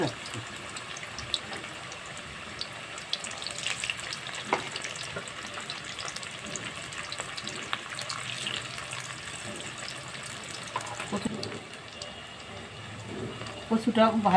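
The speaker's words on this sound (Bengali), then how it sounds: "কচুটা ভাজা" Steady sizzling of taro frying in oil fills the background, with occasional clinks and stirring noises.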